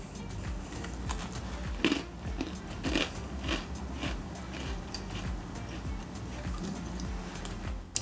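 Crisp crunching bites into a snappy homemade gingerbread cookie baked on a hot pan, a few distinct bites and chewing sounds close up over steady low background noise.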